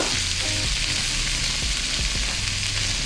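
Pasta cooks in passata in a pan, giving a steady, dense sizzle and bubbling throughout, close and loud, with a few soft stirring knocks and no voices.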